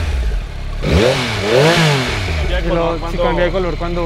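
A 2021 Yamaha MT-09 motorcycle engine revs up and down in several rising and falling surges, loud and close, while people talk over it.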